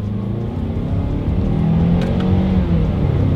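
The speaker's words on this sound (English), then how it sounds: "let's see how quickly we can get our new 2023 CX-9 here up to speed" A 2023 Mazda CX-9 SUV pulls hard in sport mode with paddle-shift control. The engine drone climbs steadily and loud from inside the cabin, with no voices.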